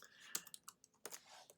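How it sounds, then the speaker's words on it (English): Quiet computer keyboard typing while working through a coding problem: a handful of soft, irregular key clicks spread across a short moment, close and faint, with no talking. "Because I will be typing."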